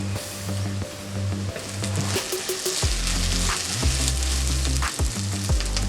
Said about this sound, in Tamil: ஒரு பிடி கருவேப்பிலை சேர்த்து வதக்கிக்கோங்க.